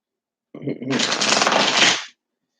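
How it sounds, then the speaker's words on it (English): A deck of playing cards being shuffled up close, a short riffling burst lasting under two seconds with a brief rustle of handling just before it. "Go ahead and shuffle these real quick."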